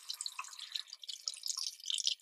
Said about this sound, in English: I'm going to wash off my brush. I'm going to put it underneath the water